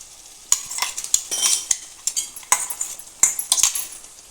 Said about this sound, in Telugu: ఇందాక మిక్సీ పట్టుకున్న టమాటా పేస్ట్ అయితే ఇప్పుడు వేసుకుందామండి.